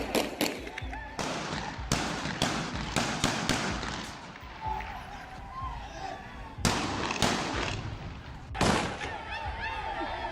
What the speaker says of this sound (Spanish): los policías lanzaron disparos al aire